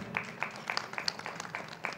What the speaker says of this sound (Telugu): ఇద్దరి కోసం గట్టి క్లాప్స్ కొడదాం